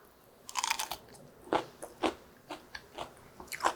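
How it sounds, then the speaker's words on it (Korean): Freshly pickled green chili peppers are bitten and chewed at close range, giving a series of crisp, irregular crunches over several seconds in a quiet room. "아삭아삭하니 아주 맛있는데요."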